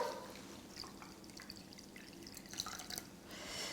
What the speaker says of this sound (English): I'm just going to add 200 mils of cold water.